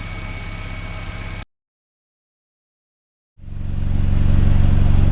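BMW E46 Touring engine idling after gasket replacement work on the oil filter housing, cooler and vacuum pump, a steady loud close-up drone that cuts out for about two seconds and then returns, building slightly.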